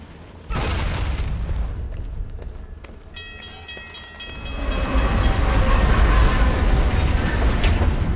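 In the video game Alpha Protocol, a train roars past on the tracks. A loud rumbling rush and rattling wheels build to a heavy, swelling clatter close by.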